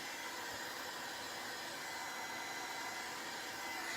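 A heat tool blows steadily and loudly at close range, drying modeling paste on an old camera during a rust-paste makeover; the even whooshing roar runs unbroken with no talk.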